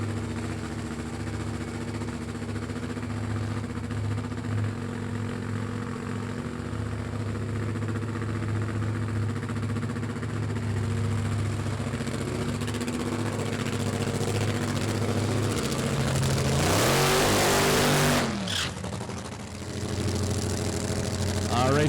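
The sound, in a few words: drag racing cars idling at starting line, 1969 Z28 Camaro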